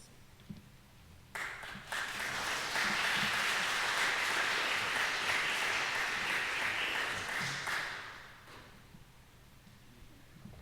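Applause from a lecture audience swells for several seconds and then fades, broad and steady at a moderate distance in a hall.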